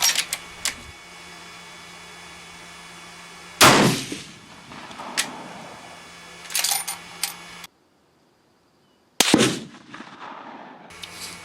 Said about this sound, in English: that was a pretty good shot right there.